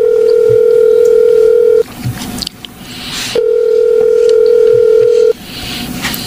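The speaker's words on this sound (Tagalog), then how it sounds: "Tatawagan kong number na nag-text sa kanya." A telephone dial tone sounds while a number is being called: two long, steady, loud hums separated by a short break, with no talking.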